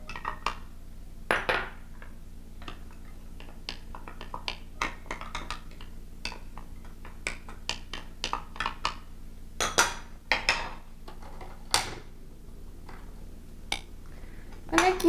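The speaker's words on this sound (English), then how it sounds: "first we're going to put bacon and chopped garlic into the bowl" Bacon and chopped garlic go into a bowl for Japanese-style Napolitan spaghetti, with scattered clinks and taps of utensils against dishes and a few sharper knocks, close and moderately loud, no talking.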